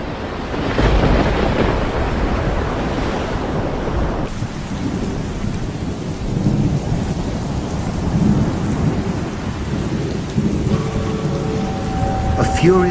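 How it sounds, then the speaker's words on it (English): A storm rages with heavy rain, crashing waves and wind, while loud thunder rumbles through at the start, a dense and continuous roar close at hand. "A furious squall came up, and the waves broke over the boat so that it was nearly swamped."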